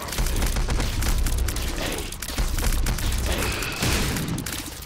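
Bombs blow up in The Binding of Isaac Repentance, a string of loud booming blasts with crackling bursts in rapid succession. The explosions stay dense and forceful through the whole stretch with no talking.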